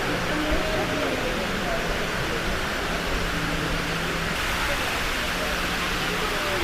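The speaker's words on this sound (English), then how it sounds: "I'm talking about this massive fountain" A massive fountain in Dubai sends water splashing down in a constant, even rush of broadband noise that runs unbroken throughout, with faint voices in the background.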